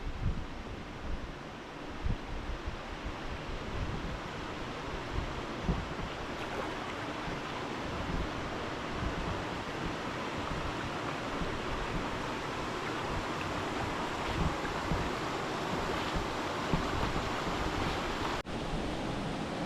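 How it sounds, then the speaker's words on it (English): Water rushing over Wendigoose Falls in Point Grondine Park, a broad, constant roar of churning whitewater heard close by, steady throughout with a little wind buffeting and no voices. "Coming up on Wendigoose Falls"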